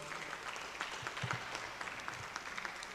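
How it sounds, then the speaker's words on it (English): An audience at a reggae conference claps in a moderate, fairly distant patter, with a few sharper individual claps standing out. "Applause, applause."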